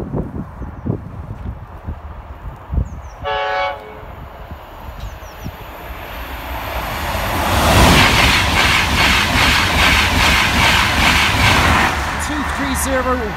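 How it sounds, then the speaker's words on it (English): A train rolling up to the Norwell Lane level crossing, building from a distant rumble to a loud, close roar with clattering wheels and a brief horn-like tone early on. "Train 1 approaching."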